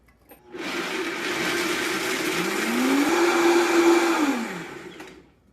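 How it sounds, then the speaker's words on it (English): A blender whirs loudly as it purees cashews and water into milk, its motor starting up, holding a steady roar with a rising pitch, then winding down after about five seconds. "I'm going to blend this up until it's a creamy milk."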